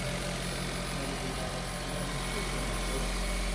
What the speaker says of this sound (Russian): Двигатель работает нормально у него.